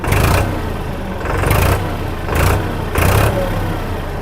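A tractor engine runs steadily in low gear and rises in four light, even throttle surges at about one-second intervals, close and loud with no talk.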